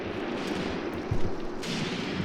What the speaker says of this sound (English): they're literally just a few hundred feet away from each other, exchanging rounds